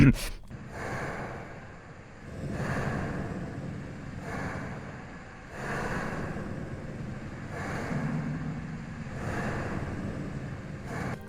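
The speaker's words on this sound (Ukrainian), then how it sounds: "А окрім цього, Ніксон спробував себе у саунд-дизайні і зробив дихання." Heavy, slow breathing created as a sound effect for The Joy of Creation horror video game: rhythmic drawn-out inhales and exhales repeating about every two seconds, close and loud, with no other sounds.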